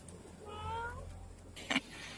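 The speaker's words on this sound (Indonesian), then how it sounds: "Main bersama kucing kesayangan aku." Pet cats playing indoors let out a soft, faint meow, followed by a brief sharp knock or scuffle nearby.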